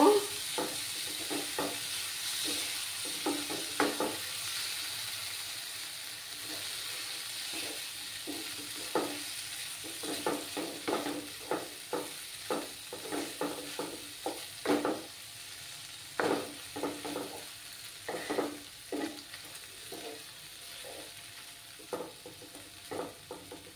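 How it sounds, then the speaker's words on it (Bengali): Chhana, about 200 grams of fresh paneer, stirred in a hot pan with a steady sizzle and irregular spoon scrapes and taps, moderately close, no voices. "দিয়ে ভালো করে নাড়াচাড়া করব।"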